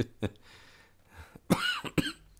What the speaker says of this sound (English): Again, I can't laugh without coughing.